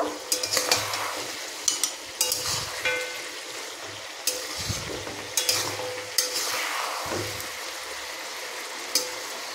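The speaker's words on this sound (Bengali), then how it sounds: "এটাকে আরেকবার ভালো করে আমি নাড়াচাড়া করে নেব।" A spoon stirs restaurant-style mutton curry in a cooking pot, with irregular metallic scrapes and clinks against the pot's sides over a soft background sizzle. No one speaks.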